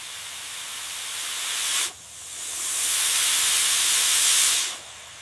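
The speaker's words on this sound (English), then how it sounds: "The steam is just right." Steam hisses from a handmade solar cooker: a loud, steady airy hiss that cuts out briefly, then swells back stronger and holds before dropping away, with no voices.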